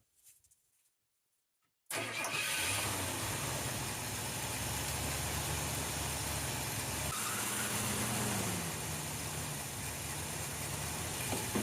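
A 1978 Ford F150 pickup truck engine cranks and catches after a short silence, then runs at a loud, steady rumble, with a brief shift in pitch partway through.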